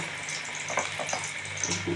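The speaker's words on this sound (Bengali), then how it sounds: "এবার এই দেখুন বড়াগুলো এইভাবে দিয়ে দিচ্ছি একটু চ্যাপটা চ্যাপটা করে দেবেন" Flattened fritters made with betho greens and coriander leaves fry in a pan over lowered heat, giving a steady close sizzle with soft bubbling bursts as they cook.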